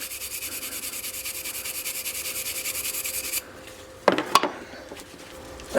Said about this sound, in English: Trying to get as much of this carbon buildup as I can off this.